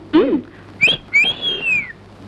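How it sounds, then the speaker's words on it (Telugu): A man whistles a short phrase in a Telugu film scene: a brief low breathy note, then a sharp rising chirp and a long sustained gliding whistle, loud and close, with no talking over it. "మీకు విజిల్ వేయడం తెలుసా?"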